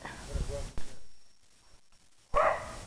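Several dogs bark in short bursts from a distance, with a person talking before and between the barks.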